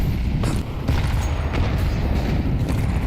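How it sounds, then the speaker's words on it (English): Muffled booming grenade blasts in a Counter-Strike esports match, dense and continuous with low rumbling thuds and scattered sharper cracks, loud throughout. "Good nades."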